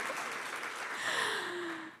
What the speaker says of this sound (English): Round of applause is in order.